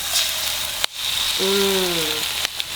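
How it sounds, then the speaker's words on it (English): Three eggs hitting hot cooking oil in a wok set off a loud, steady sizzle that crackles on without a break, with a brief clack partway through. "Okay, now everything already hot. I'm going to add egg. I use 3 eggs."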